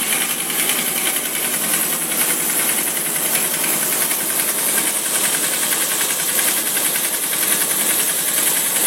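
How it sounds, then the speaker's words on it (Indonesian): A Suzuki Verza 150 motorcycle engine with a rough, knocking clutch runs loud and close, a dense continuous mechanical roar with a fine rattly texture throughout. "Kalau ini kan bunyi ketukannya kan mengikuti suara gas ya"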